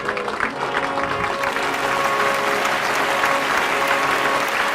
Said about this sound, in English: I want to hear more applause.